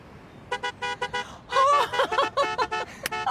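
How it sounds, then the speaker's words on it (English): A car horn honks in a series of short toots, first a few quick beeps and then a louder, longer burst of honks, close and prominent. "when someone cuts you off and you honk the horn"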